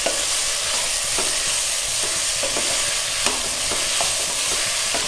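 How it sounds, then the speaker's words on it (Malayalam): Colourful red, yellow and green vegetables stir-fried for Schezwan noodles, a steady close hiss of frying with repeated light scraping and tossing strokes through the whole stretch, no voices. "റെഡ് യെല്ലോ ഗ്രീന് ഇതെല്ലാം കൂടെ നന്നായിട്ടൊന്ന് മിക്സ് ചെയ്ത് കൊടുക്കാം"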